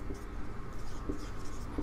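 Pen writing a word on a surface during a plant science lesson, faint scratchy strokes over low room noise.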